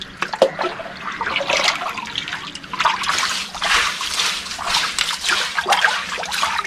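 Water poured into a backyard turtle pond to rinse out mud, a continuous rushing, sloshing flow that swells and eases in waves, loud and close throughout.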